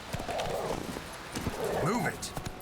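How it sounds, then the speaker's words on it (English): Horse hooves clip-clop and a horse neighs in the Witcher 3 video game, close and moderately loud, with game ambience underneath. "just take one of their horses."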